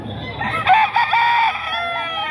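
A busapon gamefowl rooster crows once at a grotto, a single clear, close cock-a-doodle-doo over a quiet background.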